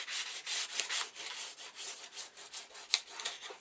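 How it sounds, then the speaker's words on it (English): Quiet, steady scratchy rubbing of paper being smoothed down onto an album cover by hand, a soft continuous rasp in short repeated strokes, close up with no talking. "I'm going to start to rub"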